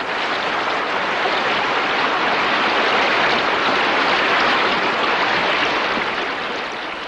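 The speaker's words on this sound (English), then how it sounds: "Giving way, the dam unleashes a torrential flood, summoning the beavers from their lodge." Torrential flood water rushes steadily from a broken beaver dam in a Rocky Mountain pond, a dense, unbroken close roar of churning water holding even throughout.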